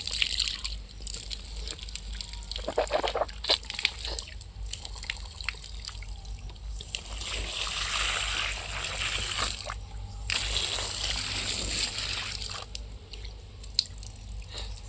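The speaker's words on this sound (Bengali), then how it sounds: "হাত মুখ ধোয়ার জন্য এসেছি।" Water splashes and drips outdoors as someone washes their hands and face after eating, with irregular trickles and splashes close by, heavier spells around the middle and near the end, and faint background hum throughout.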